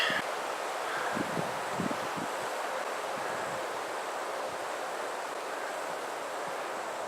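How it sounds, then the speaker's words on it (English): Strong wind rushing through leaves in a Florida outdoor setting, a steady loud broadband roar with gusty rustling and some microphone buffeting, continuous throughout with no talking. "The wind is really kicking up."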